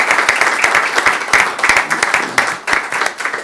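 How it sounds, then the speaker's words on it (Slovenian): Municipal council members applauding the newly elected mayor at a council session, a dense, steady round of clapping from a room of people, close and loud, lasting several seconds. "Mislim, da se tudi on zasluži en aplavz."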